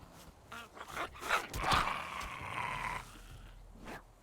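Several dogs bark and growl in the Survival Fountain of Youth video game as night falls, a few rough barks and snarls at moderate distance with a brief loud burst in the middle.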